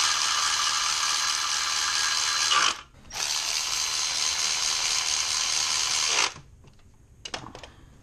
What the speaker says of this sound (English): we'll tighten the two side bolts as well